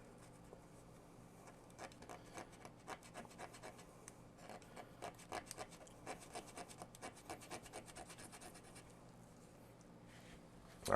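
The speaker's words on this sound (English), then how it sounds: "Let me clean this off with a Q-tip real quick so I can get a better view." A Q-tip rubs and scrubs fuzzy grime off a Sega Genesis Model 2 circuit board, a quiet, close run of rapid scratchy strokes in uneven bursts with no talking.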